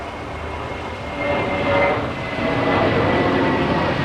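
JetBlue airliner flying at Los Angeles International Airport, a steady broadband jet roar that swells gradually as it passes, heard from a distance with no speech.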